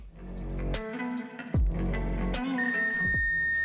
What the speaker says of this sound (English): We can check if we have a low resistance, which means a connection if it beeps.